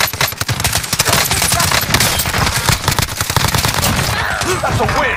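Rapid gunfire in the video game Call of Duty Black Ops Cold War, loud close bursts of automatic shots crackling in a dense, fast rhythm that runs almost nonstop.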